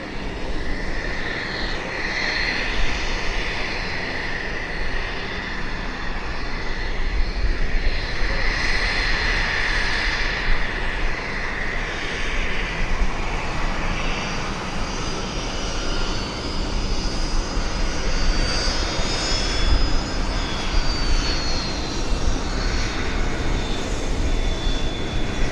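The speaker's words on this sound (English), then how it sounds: "United Airlines on the roll." A United Airlines jet takes off at Vancouver Airport, its engines a loud, steady roar that runs unbroken throughout, with a rising whine near the end and no voices.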